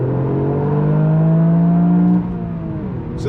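A Toyota GR Yaris engine revs loud and close on a downshift, a rising, sustained throaty drone that holds for a couple of seconds and then drops off abruptly into a lower steady hum.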